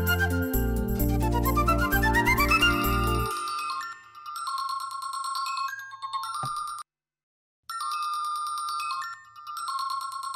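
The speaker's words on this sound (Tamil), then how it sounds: "யாரோ கால் பண்றாங்க." An incoming-call ringtone on a phone plays a repeating electronic melody, loud and close, preceded by a brief burst of louder music, with a short pause before the tune resumes and continues.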